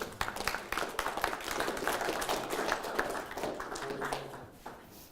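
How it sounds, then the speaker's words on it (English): A small classroom audience gives brief applause, a scattered burst of claps close by that thins out and fades within a few seconds. "give them a round of applause"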